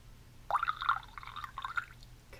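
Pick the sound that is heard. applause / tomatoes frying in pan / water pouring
water pouring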